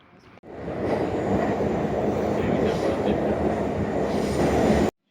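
A Tehran metro train running, a loud steady rumble of rail travel that starts abruptly after a brief quiet moment and cuts off sharply at the end, with faint voices underneath.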